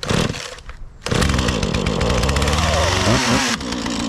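A cheap used chainsaw with choke on sputters briefly after pull-starting, goes quiet for a moment, then roars to life and runs loudly and steadily at a rough idle.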